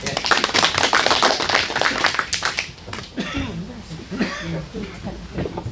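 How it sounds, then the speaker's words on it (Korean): An audience at a fruit-farming lecture claps to welcome a speaker, a burst of dense clapping that tapers off after a few seconds before talking resumes. "그 우리 굉장히 박수로 맞이하겠습니다"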